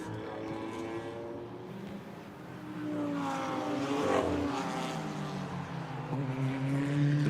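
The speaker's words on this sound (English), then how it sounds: "So all the BMWs come out together." BMW race cars in DTM Trophy qualifying pulling out onto the Hockenheimring circuit, a sustained droning engine note that swells and rises in pitch as several cars pass at middle distance.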